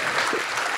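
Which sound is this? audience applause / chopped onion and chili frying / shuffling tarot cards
audience applause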